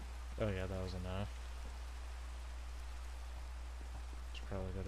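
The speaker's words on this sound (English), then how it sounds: "Get out of the rain." Soft, steady rain falls in the video game Minecraft, a quiet even hiss lasting throughout, while a voice talks briefly at the start and again at the end.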